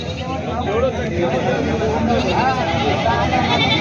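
Goats at a large goat and sheep market in Maharashtra, including local desi, Kathiawadi and Osmanabadi breeds, bleat repeatedly over a dense crowd of people talking nearby.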